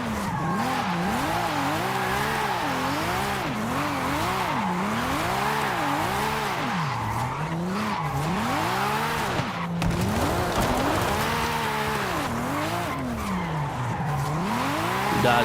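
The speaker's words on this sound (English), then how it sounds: "we're gonna drift through the whole map" A car drifts through the volcano map in Forza Horizon 5, driven with a steering wheel; the engine wails up and down in wavering pitch over a continuous loud tire squeal, sustained and close throughout.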